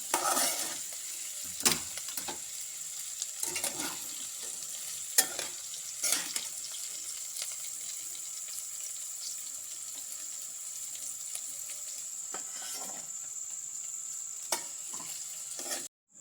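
Kantola, the spiny wild gourd, frying in oil in a pan: a steady hiss runs throughout, and sharp scraping clatters of stirring break in every few seconds.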